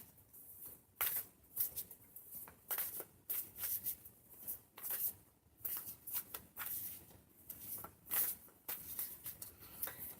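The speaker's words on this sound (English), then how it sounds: "I'm going to go ahead and start shuffling" Cards being shuffled in repeated bursts of quick riffling and flicking, close and soft, with short pauses between each shuffle.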